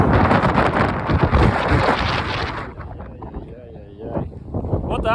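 Gusty wind buffeting a microphone while riding a Moto Guzzi Stelvio touring enduro motorcycle through an Italian town, a loud broadband rumble that eases partway through, with someone talking over it.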